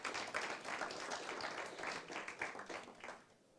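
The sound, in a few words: church congregation applauding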